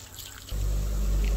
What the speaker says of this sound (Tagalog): At akin po lalagyan ng kaunti pong tubig